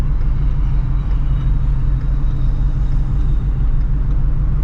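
A Shelby GT350 or a Scat Pack running E85 gives off a loud, deep, steady engine rumble that stays heavy in the lows for the whole moment, with no talk over it.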